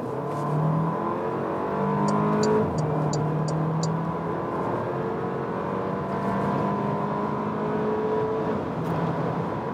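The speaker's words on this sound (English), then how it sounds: "on the motorway part where we can really accelerate it out" A Porsche Macan, 2020 facelift, accelerates hard along a motorway from 50 to 150 km/h, its engine note rising steadily through the gears with a continuous cabin drone and a few brief high ticks.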